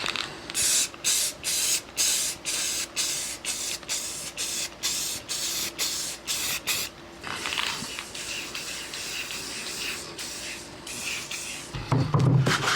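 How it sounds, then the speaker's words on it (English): Rapid short bursts of spray paint hissing in a steady rhythm onto a DL-44 blaster prop, followed by a longer continuous spray and a clatter at the end. "So let's get to spraying."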